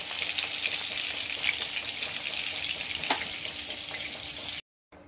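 Chopped onion and tomato fry in hot oil in a home kitchen pan, giving a steady close sizzling hiss with faint stirring, then a brief drop to silence near the end.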